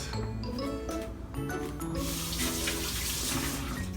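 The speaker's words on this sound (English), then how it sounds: "Since it's just soybeans, I just rinse it." Soybeans rinsed under a running kitchen tap, a steady close stream of water splashing into a sink for several seconds, with music playing underneath.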